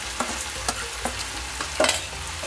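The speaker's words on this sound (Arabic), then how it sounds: "راح ابدي احمسه شويه بالزيت لحد ما شويه عندي ينزل مالته المستوى" Finely chopped dill fries in oil in a pot, with a loud, steady sizzle and several quick stirring scrapes of a spoon close by, no voices.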